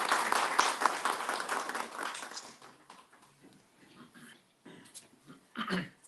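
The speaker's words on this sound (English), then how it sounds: "So please give a round of applause." Audience applause at a Baloch human rights seminar in Amsterdam, a dense burst of clapping that gradually thins and fades over several seconds, with a brief swell near the end.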